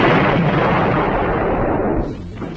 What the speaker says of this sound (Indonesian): John dengan sengaja meledakkan pom bensin yang berada tak jauh dari kantor sheriff.